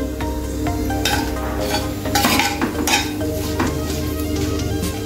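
Cumin seeds and two dried red chillies sizzle in hot oil in a pan while a spoon stirs and scrapes, with repeated metallic clinks over a steady frying hiss.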